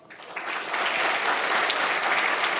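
An audience at a forum breaks into steady, dense applause for former U.S. Vice President Dick Cheney, rising quickly and holding as a full wash of clapping.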